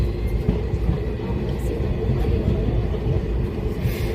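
A train rumbles nearby at Gondal railway station, a low, continuous rolling roar with faint metallic rattles, heard from close by at a steady loudness.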